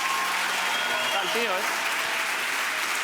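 An audience applauds a guest surgeon in a studio, with dense, steady clapping filling the whole stretch and a voice speaking briefly over it.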